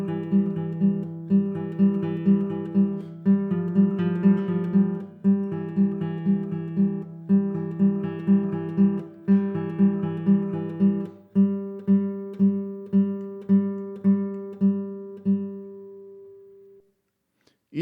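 A middle-voice accompaniment on a pitched instrument, a steady repeating two-note chord pattern in even beats, played alone and clearly, stopping before the end.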